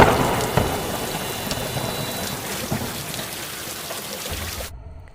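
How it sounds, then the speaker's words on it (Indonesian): A heavy rainstorm pours down in a dense, steady hiss, with rumbles of thunder rolling beneath, fading somewhat before cutting off near the end. "Tak lama kemudian turun hujan badai dan diiringi dengan petir yang bersahutan."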